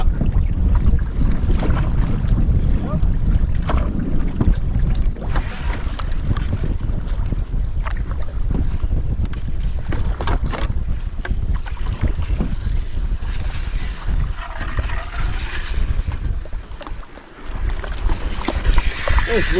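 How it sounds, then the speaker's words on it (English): Strong, gusty wind roars steadily across open water while canoeing in the back country, buffeting the microphone with loud, continuous rumble and occasional harder gusts over the lapping surface. "This wind is nuts."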